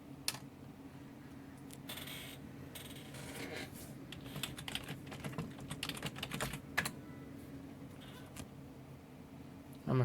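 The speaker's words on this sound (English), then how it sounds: "I'm a fast typer with one hand." One-handed typing on a computer keyboard during a PC BIOS update and overclocking session, with a steady run of quick, light key clicks at close range over a constant fan hum.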